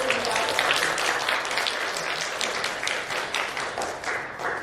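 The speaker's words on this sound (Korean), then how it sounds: "박수 한번 부탁드리겠습니다" An audience claps at a sign-language film festival talk event, a dense, steady applause close by that holds throughout and fades slightly at the end.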